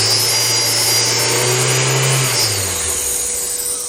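A burned, fire-damaged Mazdaspeed Miata turbo engine runs loud and close, idling roughly with a brief rev that settles back down, with no voices.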